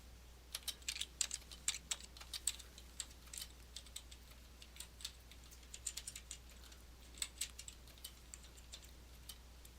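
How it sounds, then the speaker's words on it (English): Numbers are typed on a computer keyboard in quick, irregular bursts of light clicking keystrokes, close by and quiet, with short pauses between the groups and no talk. "I'm going to again type in random numbers."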